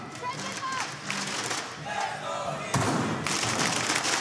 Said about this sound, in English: Crowd trying to give support to Evil Geniuses, their team, for sure.